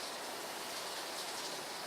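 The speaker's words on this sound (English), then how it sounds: "Rain is stopping." Steady rain hisses evenly and fairly faintly for a couple of seconds, with no voices.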